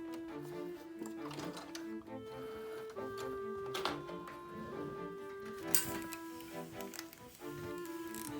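A domestic sewing machine stitches a patch pocket, its needle running in a steady fast mechanical rattle close by, with brief pauses and changes in pace as the fabric is turned at a corner.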